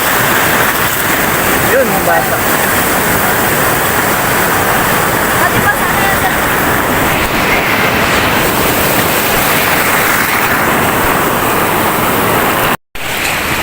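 Big ocean surf pounds at Bagasbas Beach, a continuous loud wash of breaking waves filling the scene, while people chat nearby over the roar.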